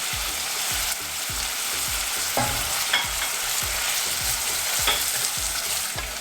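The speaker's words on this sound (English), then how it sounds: "we're going to let these onions cook until they're a beautiful golden color and very slightly crisp" Onions and cumin seeds sizzle steadily in a hot pan of oil, a continuous crackling fry with periodic soft stirring scrapes, close and fairly loud with no voices.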